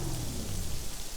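Heavy, steady rain hisses on a surface while low thunder rumbles underneath, with no voices.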